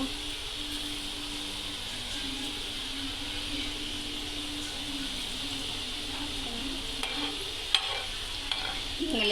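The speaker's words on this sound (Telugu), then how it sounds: "కొంచెం పైకి లేపు నూనె చింకలు పడతాయి ఇలా నిదానంగా వేసుకోవాలి ఒక్కోటి వేసుకోవాలి" Peanut pakoda fry in hot oil, giving a steady, moderately loud bubbling sizzle that holds throughout, with a few faint clicks and a brief tap near the end.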